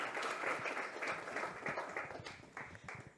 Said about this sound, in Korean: 박수로 좀 해주세요